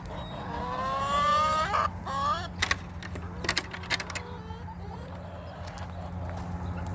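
Chickens in a homestead coop make short clucks and squawks over a low steady background hum, with sharp knocks and rustling close by and bird calls coming intermittently.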